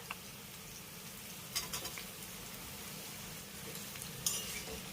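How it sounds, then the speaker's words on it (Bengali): Sweet pumpkin pieces frying in hot oil over a high flame, a soft, steady sizzle with a couple of light clinks and scrapes of a utensil. "এবার আমি কুমড়োটাকে হালকা লাল করে ভেজে নেব"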